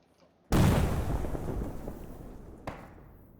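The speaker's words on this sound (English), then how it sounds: "Oh, he just threw a fucking grenade." A frag grenade explodes in the Arma 3 military shooter: a sudden loud boom followed by a long rumbling decay, with a second smaller burst about two seconds later.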